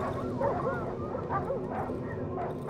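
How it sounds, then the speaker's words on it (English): A giant dog in the horror video game Darkwood, barking and yipping in a muffled, distant way beneath a steady background rumble, with a few whimpering cries that rise and fall. "I think I heard a giant dog in there."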